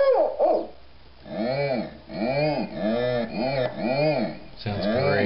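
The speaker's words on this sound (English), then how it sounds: "My favorite, the owl." An owl call from a circuit-bent bird song calendar repeats as a chain of warbling, electronically pitched hoots, several in a row at a steady rhythm, close and fairly loud with no talk over it.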